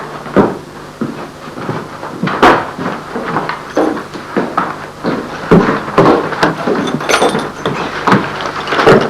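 Repeated wooden knocks and clunks of a door or cupboard being opened and shut, close by, with rattling handling noises in between.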